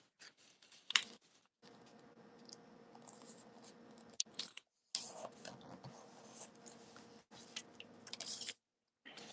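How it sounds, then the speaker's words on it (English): Origami paper creased and folded into a kite base: soft, close crinkling and brushing rustles with brief sharp creasing taps, broken by short silent pauses. "I'm going to fold this bottom right edge into the center."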